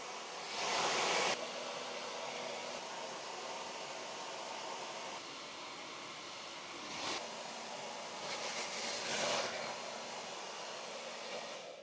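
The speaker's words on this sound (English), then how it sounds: "I'm now going to see if it'll dry my hair and see if I can work it as well." A hair dryer powered by an AllPowers R1500 portable power station blows a steady, hissing whoosh for the whole stretch, with airflow surges near the start and toward the end and no talk.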